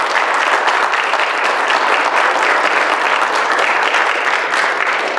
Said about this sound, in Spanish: Demos un buen aplauso